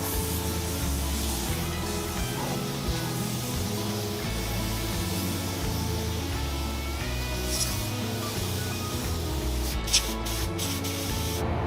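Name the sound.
spray gun applying black sealer to car body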